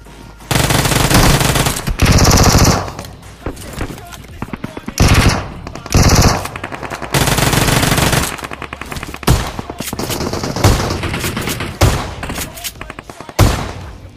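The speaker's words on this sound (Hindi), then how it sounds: "आप लोगों ने गन की आवाज़ सुन के पता लगा लिया होगा" Heavy automatic gunfire and bursts fill a crowded battle royale match in a warehouse area, loud and nearly continuous across the whole stretch, with sustained volleys and short pauses between them.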